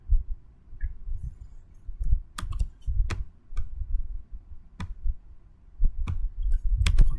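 Typing on a computer keyboard during a Linux command-line lab: sparse, irregular key clicks and taps, close and fairly crisp, over a low dull rumble, with no speech.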